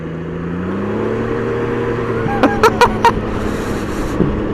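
A Can-Am Ryker/Spyder three-wheeler's engine drones steadily while riding on the road, a low motor tone with a few sharp clicks and knocks near the end.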